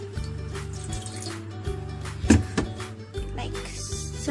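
Liquid jelly is poured in a thin layer onto a thin plate, giving soft, close trickling and dripping sounds with a few small splashes partway through.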